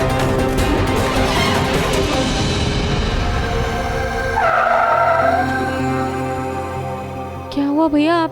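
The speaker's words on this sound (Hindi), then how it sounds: "क्या हुआ भैया, आपने गाड़ी क्यों रोक दी?" A car skids to a sudden stop on the road, loud tyre squeal sweeping over engine rumble in the middle, then a brief squeal at the end; a voice speaks faintly underneath.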